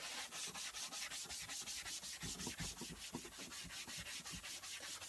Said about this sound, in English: you can hear it dragging on the material, working it down